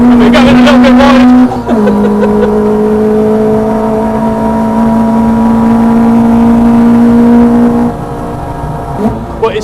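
A 250 bhp RenaultSport Clio Mk3 R27 F1 with individual throttle bodies drones loudly on track at a steady high pitch, dropping briefly at a gear change, then holding constant before easing off near the end.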